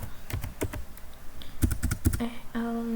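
Keys are tapped on a computer keyboard to enter a Linux command line, with scattered clicks and a quicker flurry in the middle, close and clear, followed by a short steady tone at the end.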